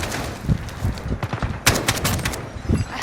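Gunfire in the video game Call of Duty: Modern Warfare during a co-op operation: rapid bursts of automatic weapon fire and scattered single shots, loud and close, in a busy firefight.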